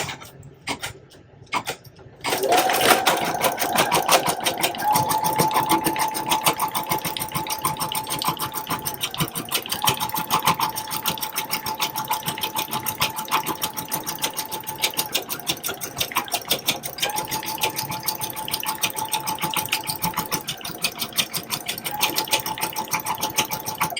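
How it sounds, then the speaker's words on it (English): A Brother embroidery machine stitching a patch starts up after a quiet moment and runs with a fast, steady mechanical chatter of needle strokes, close and continuous. "So let's press start."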